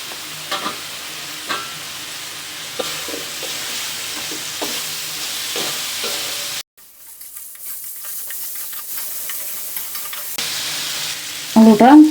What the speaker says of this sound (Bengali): আলুটা 3 মিনিটের মতন কষিয়ে নেব।